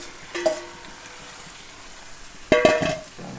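Chicken curry frying in a pan with onion and tomato: a soft, steady sizzle broken by two sharper bursts of hissing and utensil scraping, the second louder and longer, with no talk over it.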